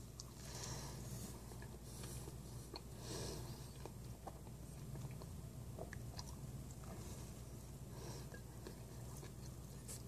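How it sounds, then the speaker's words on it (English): Close-up chewing and swallowing of double-decker sriracha eggs and bacon, with soft crunches and wet mouth sounds spread steadily across the clip over a constant low background hum; no talking. "you guys can actually hear me chewing and swallowing."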